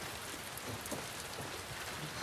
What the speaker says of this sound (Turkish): Oo, iyi yağmur yağıyor.